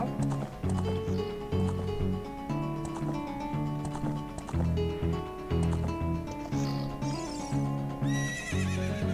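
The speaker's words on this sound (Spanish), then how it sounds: "el caballo se mueve solo" Horse hooves clip-clop and a horse whinnies in The Legend of Zelda: Ocarina of Time 3DS, mixed with steady game music throughout.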